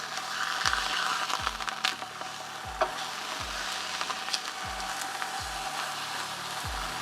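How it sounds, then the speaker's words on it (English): Steaks sizzle loudly and steadily in a hot pan while searing for beef stroganoff, a dense crackling hiss, with a rhythmic low thumping recurring beneath it. "I don't know if you can hear me above this sizzling"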